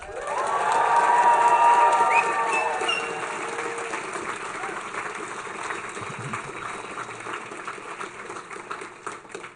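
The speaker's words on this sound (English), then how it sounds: "Please cheer so they can hear from all of you." Live audience at a national youth showcase event cheering loudly for the first few seconds, then the crowd noise settles into a lower, sustained murmur of applause and voices.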